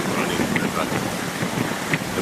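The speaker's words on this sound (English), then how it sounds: "the wind blowing" Wind gusts beside a river in Albania, buffeting the microphone in a steady rough rumble with a few small puffs on top.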